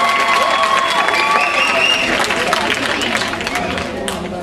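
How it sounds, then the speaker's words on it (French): An audience at a cultural event applauds steadily, with dense clapping and some cheering. A voice speaks over the crowd noise. "S'il vous plaît, on l'applaudit s'il vous plaît."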